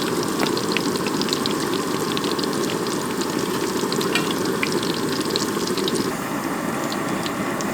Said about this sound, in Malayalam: ഫ്രൈ ചെയ്ത് മൊമോസ് റെഡി ആയിട്ടുണ്ട്